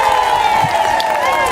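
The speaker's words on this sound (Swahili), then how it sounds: "Asanti wapi makofi ya Mushina." At a political gathering in Kenya, a crowd cheers loudly with sustained shouting and whooping voices and some clapping underneath, filling the space close and continuous.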